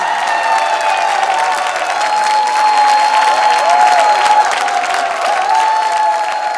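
Villagers clap together at a rural dance competition stage show, a steady, dense wash of applause with faint crowd noise running throughout, alongside a sustained tonal music or hum layer.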